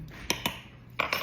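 Spoon clinking against a bowl while muffin batter for gluten-free, vegan apple cinnamon muffins is stirred, a few sharp close taps separated by brief scraping, alone without talk.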